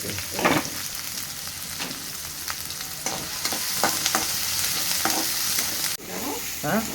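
Onion and green chilli egg dish frying in a pan, a steady close sizzle with intermittent scraping stir strokes and no talk.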